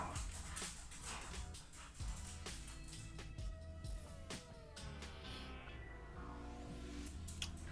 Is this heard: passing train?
no